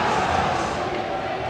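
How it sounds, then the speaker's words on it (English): A hockey arena crowd at a Breck Vipers versus Vail Yeti game groans and roars in displeasure at a penalty call, a steady, loud wash of many voices filling the rink. "And the crowd here audibly upset with that"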